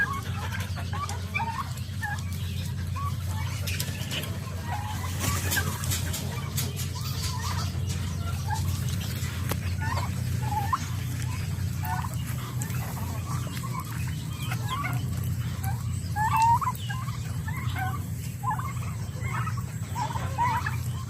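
A flock of turkeys on a farm gobbles and clucks repeatedly over a steady low hum, the calls overlapping at a moderate distance.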